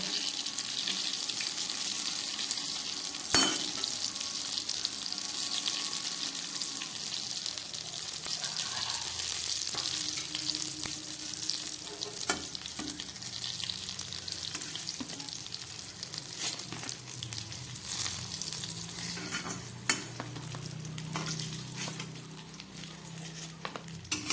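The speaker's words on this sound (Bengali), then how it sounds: "বেগুনগুলোকে খুব সুন্দরভাবে ভেজে নিলাম" Eggplant slices frying in hot oil for an eggplant and hilsa fish dish, a steady close sizzle with occasional stirring clicks and scrapes throughout.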